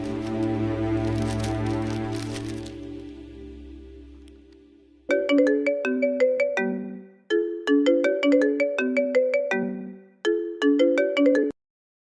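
A phone rings on an outgoing call, a melodic ringback tune in repeated bursts with short gaps, clear and alone after a fading sustained tone.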